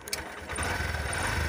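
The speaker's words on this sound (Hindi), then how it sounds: "अभी देखिए गाड़ी को ऑन करेंगे और स्टार्ट करके दिखाएंगे" A Honda SP 125 BS6 fuel-injected motorcycle cranks with a couple of quick clicks, then fires and settles into a steady, close single-cylinder idle.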